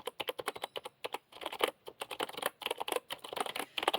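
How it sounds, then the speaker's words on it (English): Typing on a Logitech MK240 Nano wireless membrane keyboard, a quick stream of soft, close key clicks in bursts with brief pauses, quiet and alone. "Let me just do a typing test here"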